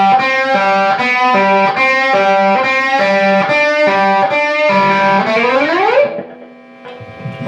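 Overdriven electric guitar plays a song's lick: a rhythmic run of repeated picked notes that ends on a slide up into a held, fading note, loud and close with no talking.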